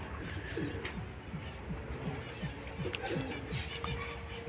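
Pet pigeons kept by a family coo softly in a repeated, evenly spaced series of low calls. The cooing is faint and continuous against a background of steady ambient noise.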